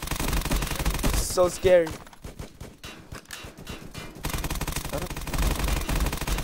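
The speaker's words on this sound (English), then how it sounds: "I keep getting shot at." Gunfire during a video game raid on the Highfield City Police Department, with rapid bursts of shots at the start and end and a lull in the middle, while a player talks over it.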